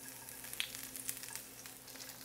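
Garlic sizzles in a pan for a salmon sauce, a soft steady frying crackle with scattered sharp pops, close but quiet, with no voices.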